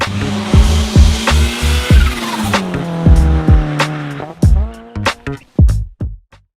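Twin-turbo 13B rotary engine in a Mazda RX-7 FC, loud and close, revving hard through several gears with sharp rising pulls, brief drops between shifts and punchy bursts of exhaust crackle as it lets off.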